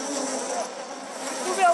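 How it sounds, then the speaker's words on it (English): A swarm of bees buzzes densely and continuously all around, close and fairly loud, in the Amazon rainforest, with a voice mixed faintly underneath. "I've got bees all over me."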